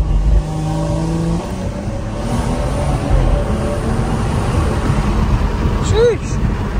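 A BMW G30 540i making an anti-lag pull in second gear from about 30, its engine roaring loud and steady as it accelerates. The pitch climbs toward a sharp peak near the end, with a voice over the run.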